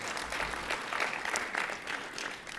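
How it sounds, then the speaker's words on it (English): An audience at a Sikh awards event applauds the current immigration minister, a moderately quiet spread of clapping that holds steady throughout with no voices over it. "Let's give a round of applause to our current immigration minister."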